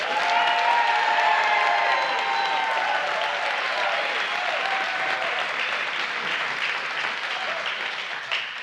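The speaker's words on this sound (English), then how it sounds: "clap if you will support the Democratic nominee" Sustained audience applause with some cheering at a Pints and Politics gathering in Cedar Rapids, a broad, even wash of clapping that holds steady for several seconds, then tapers slightly toward the end.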